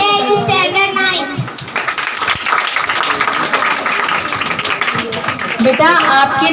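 An audience at a school prize distribution claps for the students in a dense burst of applause, with children's voices and chatter heard in and around it.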